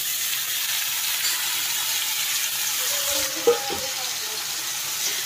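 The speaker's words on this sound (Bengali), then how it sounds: "মাছটা দিয়ে এখন একটু নাড়াচাড়া করে একটু মিশিয়ে নেব।" Fish and eggplant fry in a pan with a steady broadband sizzle, and a couple of brief scraping knocks from stirring come near the middle.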